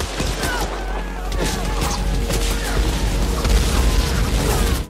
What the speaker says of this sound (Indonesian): mereka mulai dihujani peluru dan ledakan artileri oleh Jepang